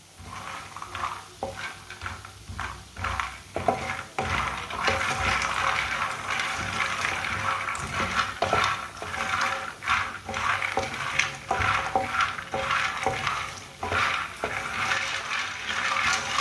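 Fox nuts (makhana) are roasted in a pan for about two minutes while a spoon stirs them steadily, giving repeated scraping and rattling clinks over a continuous dry sizzle, close and fairly loud.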